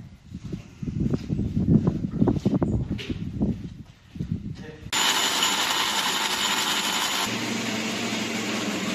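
Power drill boring holes during house construction work, running loud and steady for the last four seconds after a stretch of talk at the start.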